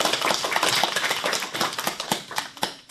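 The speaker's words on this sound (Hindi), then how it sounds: "तो बस इसी बात पर जोरदार तालियां हो जाएं" An audience applauds schoolchildren at a girls' school programme, a dense patter of many hands clapping at once with a few sharper claps standing out, steady and fairly loud throughout.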